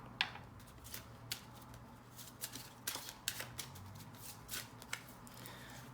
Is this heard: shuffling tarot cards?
yes